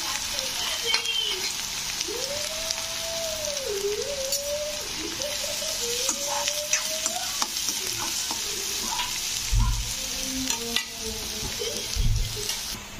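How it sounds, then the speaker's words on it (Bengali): Onions sizzle and fry steadily in hot oil with bay leaves in a kadai, a continuous close crackle with occasional stirring knocks and a faint whistle-like tone in the background. "এবারে পেঁয়াজগুলো আমি দিয়ে পেঁয়াজটাকে একটু ভালো করে ভাজবো।"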